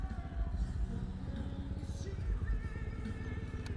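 Bristol Classic 400i motorcycle engine while riding, a faint low throbbing exhaust note with a pulsing rhythm and some mechanical clatter, heard from the rider's position.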